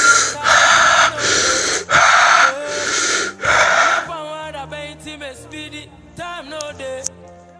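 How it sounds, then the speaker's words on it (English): Deep, forceful breaths drawn and pushed out in a steady rhythm during a breathing exercise: five strong, close breath bursts, then quieter tonal sounds follow. "A breathing exercise."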